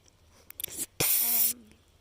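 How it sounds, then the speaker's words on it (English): A short hissing burst of hairspray, about half a second long, after a few soft clicks and rustles, close and fairly loud, sprayed on a show calf's fluffed hair. "with some hairspray to keep it there"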